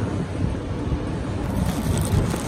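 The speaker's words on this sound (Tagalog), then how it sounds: "Ayan guys, mahangin dito sa labas." Steady outdoor wind buffeting with low rumbling gusts outside a restaurant, continuous and fairly loud, no voices.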